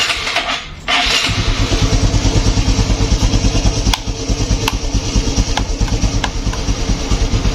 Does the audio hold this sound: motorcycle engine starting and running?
yes